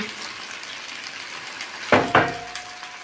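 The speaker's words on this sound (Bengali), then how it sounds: "এখন আমি কেটে রাখা টমেটোগুলো দিয়ে দিচ্ছি" Chopped tomatoes go into spiced potatoes frying in oil, a soft continuous sizzle broken by two sharp thuds and a clink of a utensil on the pan.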